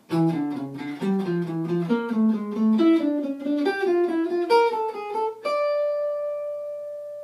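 Clean electric guitar picks an arpeggio with a chromatic enclosure around each chord tone, a steady stream of single notes weaving up and down in pitch, finishing on one long ringing note.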